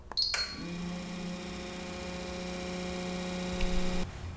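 A Minn Kota trolling motor switches on and its propeller spins up, a steady electric hum and whine that starts after a brief click and runs evenly for several seconds before stopping.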